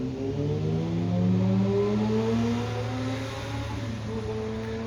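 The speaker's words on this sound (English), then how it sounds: "There's a car driving by." Car driving by on a street, a steady engine hum with shifting whine tones swelling and fading as it passes, continuous and moderately near with no talking.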